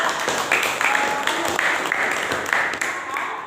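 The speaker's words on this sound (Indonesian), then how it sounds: "Beri tepuk tangan dulu" A classroom audience applauds a student's practice speech during a teacher-training session, steady clapping from many hands filling the room for several seconds without a clear break.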